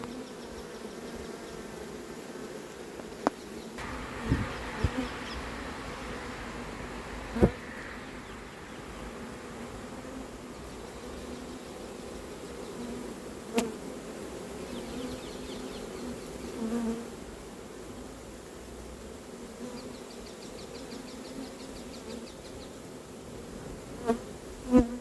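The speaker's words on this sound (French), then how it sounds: "Incroyable cet essaim" A swarm of honey bees gives a continuous droning buzz that holds steady at moderate level outdoors, with occasional soft knocks and handling noises.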